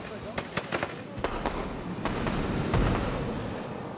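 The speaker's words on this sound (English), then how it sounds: "So that's a good way to do your fireworks." Fireworks in the Planet Coaster theme-park game launched from a ride: a string of sharp, scattered pops and cracks followed by a louder rumbling burst that swells and fades, with talk around it.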